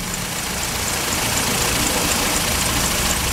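A 2007 Honda CR-V engine with a blown head gasket idling, a steady loud hum with faint regular ticking, close by and unbroken.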